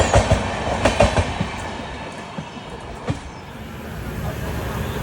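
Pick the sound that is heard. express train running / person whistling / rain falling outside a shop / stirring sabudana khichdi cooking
express train running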